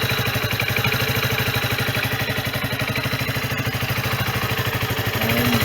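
A Sinnis Bomber 125 budget motorcycle idles with a brand new silencer after repair and service, its engine holding a steady, even, rapid thumping throb, loud and close, with no voices over it.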